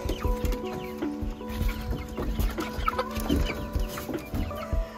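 Several chickens cluck and murmur close by in a busy, irregular stream, with short calls overlapping across the whole stretch.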